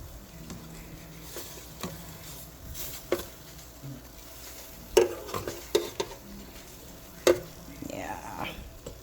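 Air-fried chicken thighs being flipped with utensils, giving soft scraping and a few sharp clinks against the pan, fairly close and moderately quiet, with a voice speaking lightly in between.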